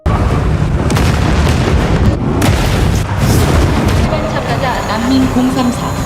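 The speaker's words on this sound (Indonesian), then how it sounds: "Ledakan terjadi dan gedung runtuh." Loud booming explosion followed by crashing, rumbling debris as a structure collapses, dense and close, with a voice briefly audible in the mix.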